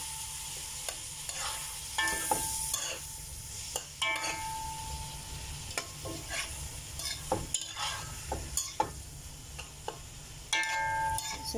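Vegetables, mushroom, egg and chicken for fried rice are stirred in a hot pan, a continuous sizzle broken by frequent close scrapes and clinks of the spatula, with no talking.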